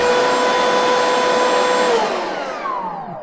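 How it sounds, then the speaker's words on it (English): Bosch 12V cordless vacuum cleaner (VAC120BN) whirring loudly and steadily up close with a high motor whine, then the pitch drops as it winds down. "So when you turn it on,"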